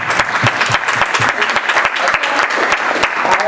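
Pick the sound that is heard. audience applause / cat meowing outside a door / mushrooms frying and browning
audience applause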